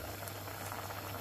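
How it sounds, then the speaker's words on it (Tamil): Okra bubbles at a steady boil in a pot for a Jaffna-style Sri Lankan milk curry, a continuous close simmering gurgle with no speech over it. "வெண்டைக்காயெல்லாம் நல்லா அவிஞ்சு கொதிச்சிட்ருக்கு."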